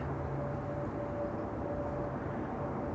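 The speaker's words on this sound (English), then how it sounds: "This is KLM flight 1850, E2 Embraer 195 arriving from Munich." A KLM Embraer E195-E2 airliner arriving at Schiphol Airport, heard as a steady, moderately distant broadband jet roar with a faint whine, continuous and without voices.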